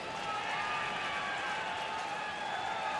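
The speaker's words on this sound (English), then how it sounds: "And the fans applaud on that." Baseball fans applauding in a Philadelphia stadium during a Reds at Phillies game, a steady broad wash of crowd clapping and murmur that holds evenly for a few seconds, with faint commentary underneath.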